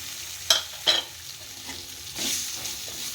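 Cooked rice stirred in a hot pan for curd rice gives a soft continuous sizzle, with two sharp scrapes of the spoon early on and a louder rush of frying noise near the end.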